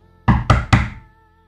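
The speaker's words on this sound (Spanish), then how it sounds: "cuando escuché los golpes en el armario, en el closet" Three firm, hollow knocks on a wooden wardrobe door in quick even succession, close and loud, with nothing else around them.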